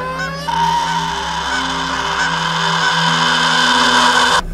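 A goose honks in one loud, sustained, nasal blast that holds steady for several seconds after a brief lead-in, then cuts off abruptly.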